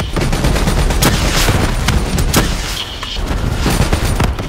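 Call of Duty Black Ops 3 campaign combat: loud, continuous automatic gunfire with sharp individual shots and heavier booms layered over a dense battle din.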